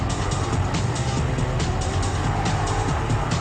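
A race car in a racing game brakes hard behind a C3 Corvette, with a loud continuous engine roar and tire noise throughout.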